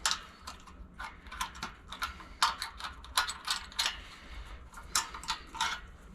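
Small metallic clicks and ratcheting from a wrench loosening a 1/4 inch nut that holds the green wire on an air compressor, in irregular close bursts with brief pauses between turns.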